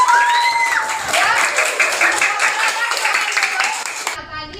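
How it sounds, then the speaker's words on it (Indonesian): A classroom of students claps for a group's presentation, a lively burst of clapping with children's voices calling out over it, stopping abruptly near the end. "Kita beri tepuk tangan dulu."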